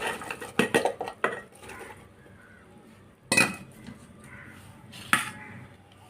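Chopped taro stalks dropped into a cooking pot, giving several sharp clattering knocks and clinks of utensils and pan, close and fairly quiet, in irregular bursts with pauses between.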